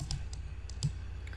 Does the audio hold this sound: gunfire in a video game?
no